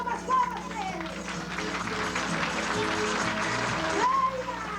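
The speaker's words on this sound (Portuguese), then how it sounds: "Palmas, palmas pra eles." Crowd applause and cheering at a Brazilian festa junina dance in Penha, Santa Catarina, a steady, dense wash of clapping lasting throughout, with voices mixed in.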